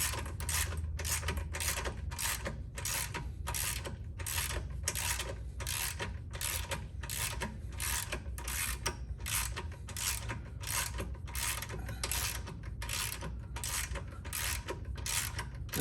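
Ratchet wrench loosening thread-locked bolts on a Can-Am Spyder RT frame member, a rapid, continuous clicking in an even rhythm, close and alone.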